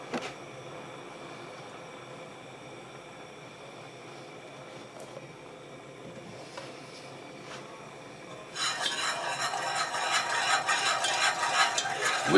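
Milk being whisked into chocolate banana pudding in a pot on the stove, a steady scraping whisk rhythm that starts faint, then turns loud and busy with bright clinking strokes for the final few seconds.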